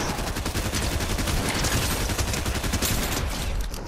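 Rapid continuous SMG fire in the Fortnite video game, a loud dense stream of shots lasting the full few seconds and easing off at the very end.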